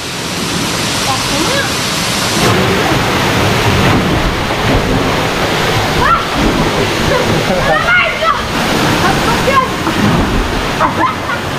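Hugasan Falls in Talisay, Batangas roars as a loud, dense wash of falling water, constant throughout, with voices faintly mixed in.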